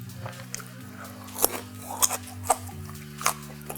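Someone bites and chews a snack of egg and tomato close to the microphone, with a few sharp crunchy bites spaced out over soft mouth sounds and a low steady background hum, no talking.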